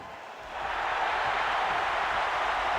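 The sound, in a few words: wrestling crowd cheering and applauding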